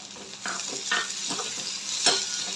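Garlic and ginger hit hot oil with onions for a cashew mushroom masala, giving a steady close sizzle broken by several scraping stirs of a spoon in the pan.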